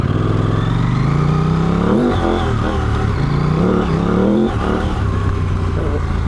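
KTM 790 Adventure R motorcycle with a front-mounted intake revving hard, the engine note rising and falling in repeated throttle blips over a loud, continuous close-up drone.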